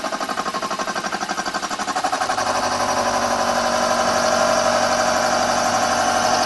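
A refitted mini lathe runs while cutting, a steady mechanical hum with a pulsing rhythm at first that smooths into a louder continuous drone, close and alone.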